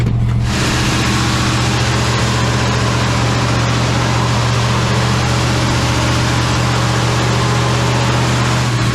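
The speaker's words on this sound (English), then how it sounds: "it's idling" A carbureted engine, its carb damaged by ethanol fuel, idles at a very high idle with a steady, loud, unbroken drone and strong low hum close by.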